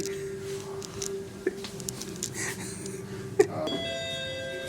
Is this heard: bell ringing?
yes